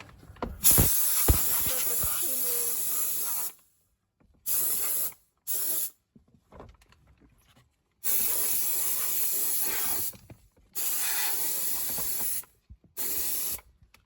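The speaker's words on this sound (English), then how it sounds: "And I'm going to use the steam." Steam hisses in loud, sustained blasts into a homemade glove box, several long bursts with short silent gaps between them, close and unaccompanied by talk.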